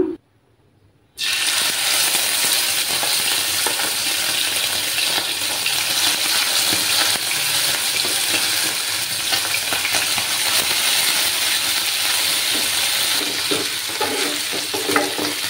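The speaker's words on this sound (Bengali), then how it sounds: "আমার তেলটা গরম হয়ে গেছে, এবার আমি মাছগুলো ভেজে নেব।" Tangra fish frying in hot oil on a lowered flame, a loud, dense sizzle that bursts in after a brief quiet moment and crackles steadily throughout with small pops and spatters, no voices over it.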